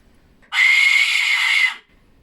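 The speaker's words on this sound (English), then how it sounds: "Blow the whistle." A single shrill whistle blast, steady and loud, held for just over a second in an otherwise quiet space inside the Hinsdale House at night.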